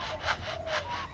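Chook, a 30-year-old lyrebird, imitates a handsaw cutting wood, giving steady back-and-forth rasping strokes in a regular rhythm, close and fairly loud.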